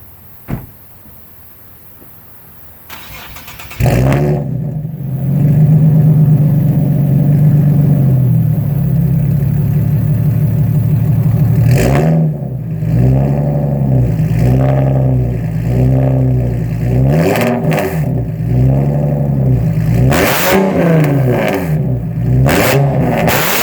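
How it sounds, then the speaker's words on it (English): A Nissan 370Z engine starts after a faint click, then settles into a deep, loud exhaust idle with several sharp throttle blips and revs rising and falling, no voices. "let's go ahead and get an exhaust clip so you can hear how this thing sounds"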